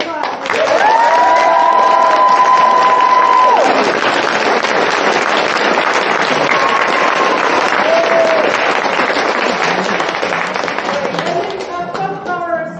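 Audience applause and cheering after a children's theatre show, a dense sustained round of clapping that fades gradually toward the end, with tonal whoops and cheers rising above it in the early seconds.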